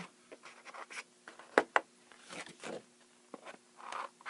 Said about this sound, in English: We'll take our snips, and we're going to go ahead and we'll take these little corner pieces out.